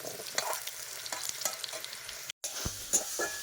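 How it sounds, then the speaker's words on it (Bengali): Potatoes frying in a pan, a quiet close sizzle with repeated scraping stirs and light knocks and one abrupt silent gap partway through, no voices. "একদম আলুটাকে ভালো করে ভাজি এখন"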